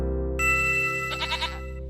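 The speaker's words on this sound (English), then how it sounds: "This is a goat" A goat bleats once in a short, wavering cry, clear and close, set against a steady tonal background hum in a preschool learning program.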